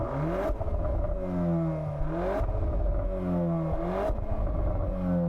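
A Volkswagen Golf R engine revs up repeatedly through its stock exhaust, pitch climbing and dropping in several waves, with a smooth, moderate exhaust note close by.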